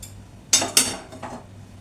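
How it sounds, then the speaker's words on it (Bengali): Metal steamer box lifted off a kitchen stove while making steamed chicken, two sharp metallic clanks in quick succession followed by a softer scrape, close by, over a faint room hum. "আমার এটা ভারী শিলনোড়াটা নামিয়ে নিয়ে আমি এবার স্টিম করা বক্সটা এবার আমি নামিয়ে নেব"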